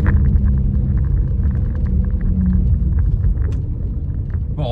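VW Golf GT TDI diesel engine idling with a worn turbo, a loud steady low rumble with a faint ticking clatter layered on top, heard close up with no speech.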